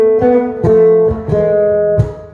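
Acoustic bass through a piezo pickup with a quacky, artificial tone: four plucked notes with sharp nasal attacks and sustained ringing, close and loud.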